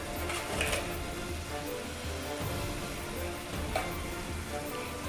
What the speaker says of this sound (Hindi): सारी चीज़ों को मिक्स करके अच्छे से भून लेंगे।